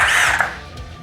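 A Milwaukee power driver spins a fastener in one short, loud whirring burst that fades away within a second.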